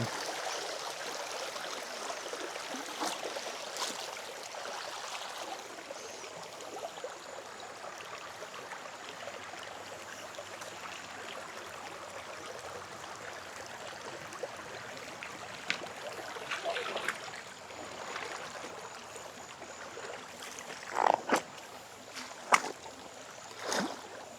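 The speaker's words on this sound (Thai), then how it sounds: "เดี๋ยวผมก็จะเดินลง ทวนกระแสน้ำลำธารขึ้นไป" Continuous rush of a flowing stream close by in Uthai Thani, Thailand, with occasional splashes and sloshing steps of someone wading upstream toward the end, steady and moderately loud throughout.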